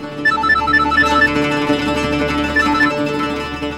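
A phone ringtone plays in a series of short, evenly spaced electronic tones over a low musical background, heard loud and close with no talk.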